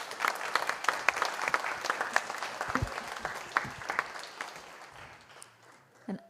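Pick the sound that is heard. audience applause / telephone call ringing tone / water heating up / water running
audience applause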